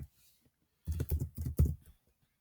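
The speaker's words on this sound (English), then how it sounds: "we're just going to type x squared in" Quick run of keystrokes on a computer keyboard, about eight close, crisp clicks in a short burst, with silence before and after.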